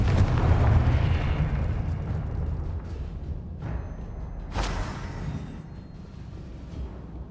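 Confringo blasting spell explosions in the video game Hogwarts Legacy: a loud booming blast opening the clip, then two sharper bursts with rumbling decay, no talking.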